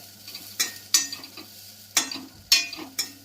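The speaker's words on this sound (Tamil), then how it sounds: "இப்போ பாருங்கள், தேங்காய் வறுத்துட்ருக்கு" Intermittent scraping and stirring of coconut roasting in a pan, with soft sizzling and a few sharp clicks of a utensil against metal.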